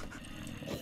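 Minecraft-style video game dogs (wolves) barking and growling in a continuous dense mix of game noise, steady and fairly loud.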